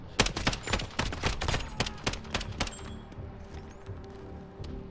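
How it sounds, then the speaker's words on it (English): Rapid gunfire in Call of Duty Modern Warfare: about a dozen loud, close, sharp shots fired in quick, slightly uneven succession, then a quieter tail of mechanical clicks and rattles. "See how fast I can shoot."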